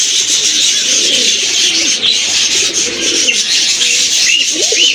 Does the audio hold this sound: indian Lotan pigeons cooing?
yes